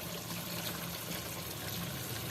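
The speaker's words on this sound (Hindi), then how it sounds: "इसके अंदर पानी डाल के गोश्त को गलने के लिए छोड़ देंगे" Two cups of water poured into a pot of beef tikka masala with tomatoes, making a steady, continuous rushing splash without any talking.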